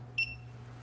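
A Timemore coffee scale gives a single short, high electronic beep when zeroed, faint against a low background hum.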